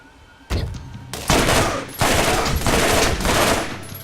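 Dahl guns firing in Borderlands, loud bursts of rapid automatic shots in several separate volleys, each lasting under a second to about half a second, with no talk over them.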